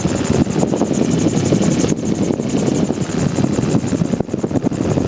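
A Magni M16 gyrocopter engine drones loudly and steadily in flight, a dense rotor-and-propeller roar with slight fluctuations as power is reduced, close and continuous without talk.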